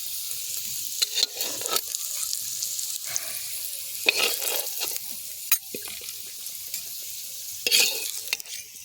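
Potatoes fry in a pan over an open fire at an outdoor New Year picnic, giving a steady close sizzle broken by repeated scraping stirs, with no talk.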